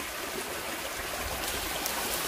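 Water flows steadily along a gutter beside an old aqueduct on an abandoned estate, a constant close rushing burble with no pauses.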